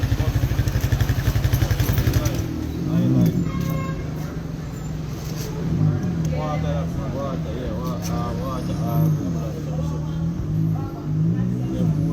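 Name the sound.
motorcycle engine starting with clutch held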